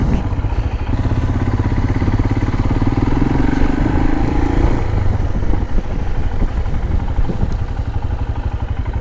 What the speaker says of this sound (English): I think I can park the bike right next to his statue